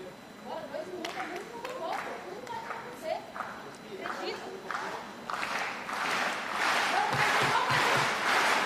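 A goalball crowd at the Paris 2024 Paralympics cheers and claps during a break in play, scattered claps building into a louder, sustained roar toward the end, with a commentator talking over it.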